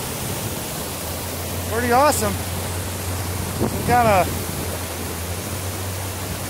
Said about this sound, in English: Water's a little loud, but I just want to show you guys this cool waterfall here.